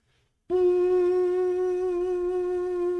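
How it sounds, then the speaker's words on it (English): A single sustained horn blast begins abruptly and holds steady, a rich buzzing tone with a hollow, echoey quality, heard alone. "it sounds like this strange echoey horn going off"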